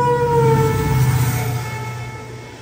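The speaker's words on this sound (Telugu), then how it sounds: "ఏదో ట్రైన్ క్రాస్ ఓవర్" A train passing at Durgapur railway station, a loud horn-like sustained tone over rumbling movement that fades gradually while the train goes by.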